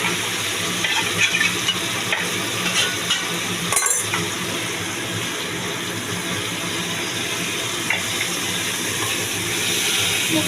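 Spices frying in a pan with a little water for tangra fish curry with potatoes and bori, a continuous close sizzle and bubbling hiss with occasional stirring clinks.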